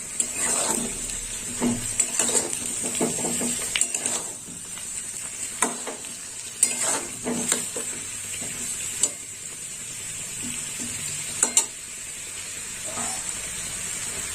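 Potato and eggplant curry cooking in a pan, with a steady sizzle and bubbling throughout, broken by repeated scrapes and clinks of stirring, close and moderately loud, with no talking.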